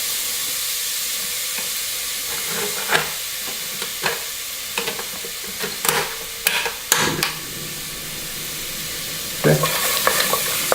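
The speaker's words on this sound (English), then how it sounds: "so just sweat them out for about 3 minutes or so, just to get the onions somewhat translucent." Celery, onion and carrot sweating in oil in a pot make a soft continuous sizzle, broken by scattered sharp scrapes and clinks of stirring that come in short bursts; a voice speaks only briefly.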